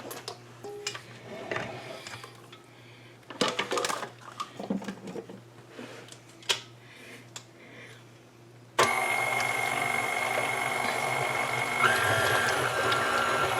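An electric stand mixer churns sweet bread dough at low speed, first with scattered clatter and handling knocks, then a steady loud motor whir that starts abruptly and runs to the end.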